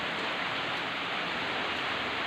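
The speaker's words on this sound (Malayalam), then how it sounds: "നല്ല മഴ പറഞ്ഞാൽ നല്ല മഴ." A downpour of heavy rain makes a continuous, uniform rushing hiss at steady loudness, with no speech or other distinct sounds.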